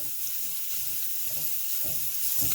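Sausage frying in a pan for Cajun tortellini soup gives a steady, faint sizzle with a soft, even hiss and no voices.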